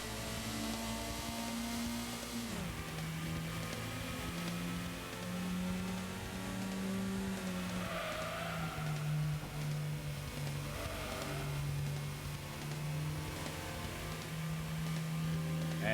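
A Honda CRX with a VTEC engine drones and revs in Gran Turismo, its pitch climbing and dropping through gear changes as a steady, continuous hum that runs the whole time without talk.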